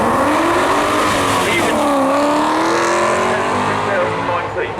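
A Datsun race car at the Brighton Speed Trials roars past nearby, its engine note rising and falling through gear changes, loud and sustained, with spectators talking over it.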